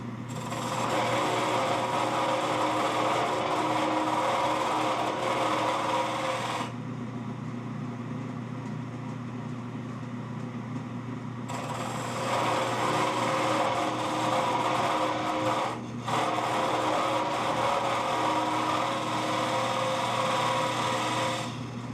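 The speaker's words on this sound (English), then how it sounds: "using a parting tool to get down to that diameter" A wood lathe spins a blank while a parting tool cuts it down to about a 2-inch diameter, giving a steady, close mechanical whir with scraping. The cutting noise drops away for a few seconds twice and then resumes, with no talking.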